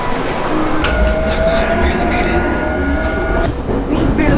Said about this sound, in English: Made it onto this train.